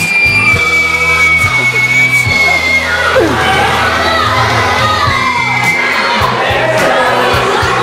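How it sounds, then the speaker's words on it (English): Children scream and shout while playing zorb ball at an indoor after-hours kids' event, a loud, continuous mix of high shrieks, yells and whoops from several voices close by, with thumping activity underneath. "Get ready to get hit and scream."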